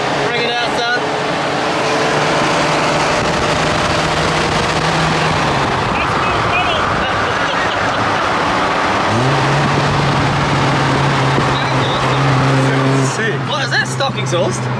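A Toyota Land Cruiser 120 Prado fitted with a 3-inch exhaust and headers revs off-road, its engine note rising and falling loud and close throughout, with people talking over it.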